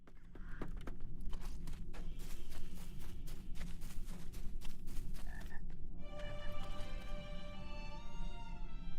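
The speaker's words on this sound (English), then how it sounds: "That's toads." Toads croak steadily in a swamp within the LOTRO video game, a dense, continuous chorus of rattling calls over a low ambient bed, with a brighter tonal game sound entering near the end.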